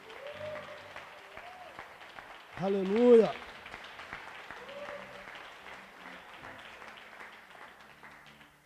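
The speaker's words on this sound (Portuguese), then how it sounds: "uma poderosa salva de palmas" A church congregation applauds during a worship service, a soft, hissing wash of clapping that runs throughout beneath a speaking voice and a brief, louder shouted exclamation.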